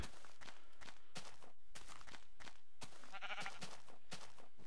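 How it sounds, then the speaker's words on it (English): Black sheep bleating in the Minecraft video game, a short bleat heard against dense, steady game sounds with rhythmic pulses and no talking. "black sheep."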